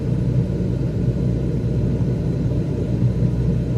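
A Cessna 172 engine in Microsoft Flight Simulator drones at reduced power, a steady low rumble inside the cockpit with no voices.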